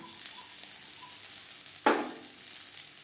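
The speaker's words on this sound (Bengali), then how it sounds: "দশ পনেরো সেকেন্ড লঙ্কার সাথে জিরে ও তেজপাতা ভেজে নেওয়ার পর দিয়ে দেবো সামান্য পরিমাণে আদা" Chili, cumin and bay leaf frying in hot oil as ginger goes into the pan, giving a steady low sizzle that jumps into a louder burst partway through, then settles back; no talking.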